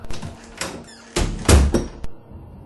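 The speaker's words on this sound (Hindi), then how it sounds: "और जब मैंने दरवाजा खोला" A door opens with a short squeak and some thumps and rattles, fairly close and loud, ending in a soft knock.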